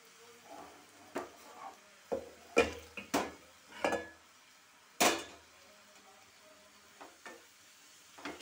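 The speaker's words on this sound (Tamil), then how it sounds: "ஆஃப் பண்ணிவிட்டு நம்ம ஏற்கனவே மசிச்சு வைத்த இந்த பருப்பு இருக்குல்ல, இதில் வந்து இதை ஊற்றிடும்." Mashed dal poured into a tamarind mixture in a pot after the stove is switched off, heard as scattered wet plops, scrapes and clanks of utensil against pot, close and moderately quiet with gaps between.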